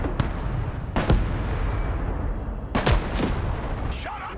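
Gunfire from anti-tank infantry in the video game Broken Arrow: a few sharp, loud shots or blasts spaced out over a steady rumble of battle noise.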